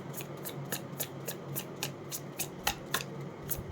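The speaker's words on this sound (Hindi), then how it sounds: "एक बार मैं कार्ड्स निकाल लूँ" Tarot cards being shuffled and drawn by hand: a quiet, close series of crisp papery flicks and snaps, repeating roughly every third of a second.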